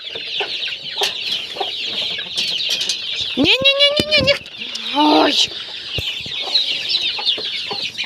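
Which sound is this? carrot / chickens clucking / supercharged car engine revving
chickens clucking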